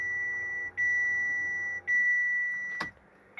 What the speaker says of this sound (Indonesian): sampai full pump berhenti berbunyi ya.